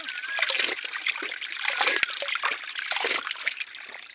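Water from a mountain spring trickling and splashing close up, a continuous irregular flow with bubbling spatters and a brief sharp knock partway through.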